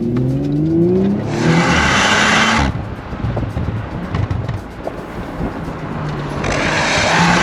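An Audi RS5 tuned by ABT to 530 hp accelerates hard on a winding road, its engine note climbing through gears with loud rising whines, a lull in between, then surging again close and strong.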